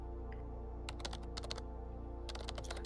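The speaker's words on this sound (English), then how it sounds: "you hear the sound of typing." Soft, quiet tapping of computer keys in short irregular bursts, close by, with no voices.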